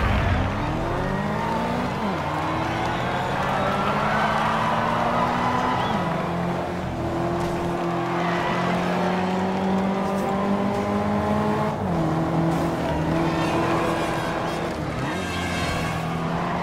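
Race cars tear across mixed-surface terrain in a Forza Horizon 2 trail race, engines revving steadily up and down through gear shifts with continuous loud drone and occasional tire noise, no voices.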